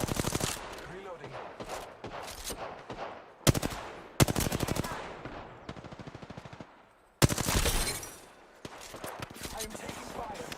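Rapid bursts of automatic gunfire crackle through a video game firefight, loud and close, with short volleys and pauses between them and a few sharp single shots.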